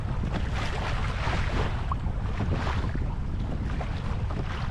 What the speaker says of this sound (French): Donc aujourd'hui le vent est assez frais.